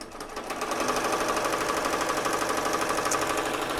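An embroidery machine sews a satin stitch on a double appliqué, a fast, steady mechanical chatter of needle strokes that runs continuously at moderate loudness with no talking.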